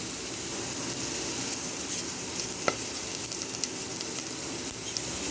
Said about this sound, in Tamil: குக்கரில் கொஞ்சம் ஆயில் ஊற்றிட்டு ஆயில் ஹீட் ஆனதும் 2 ஏலக்காய், 3 சின்ன பட்டை, 2 கிராம்பு, கல்பாசி இதெல்லாம் போட்டுக்க போகிறோம்.